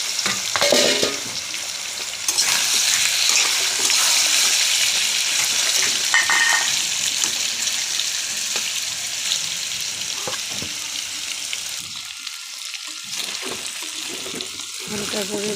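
Chicken pieces frying lightly in a pan, a steady broadband sizzle that continues throughout with occasional stirring scrapes and clinks, briefly dipping near the end before resuming.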